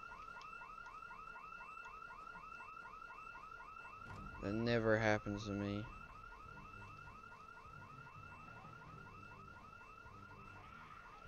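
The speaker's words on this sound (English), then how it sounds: "There's just no way there's two house alarms." In the zombie-survival game Project Zomboid, a house alarm wails in a rapid, repeating electronic pattern that runs throughout. Someone speaks briefly over it partway through.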